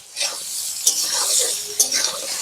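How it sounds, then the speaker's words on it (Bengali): Potatoes and pointed gourd frying in a pan, a close, steady sizzle broken by two sharp metallic scrapes of a spatula as the pieces are stirred. "আলু আর পটল হালকা ভেজে নিয়েছি"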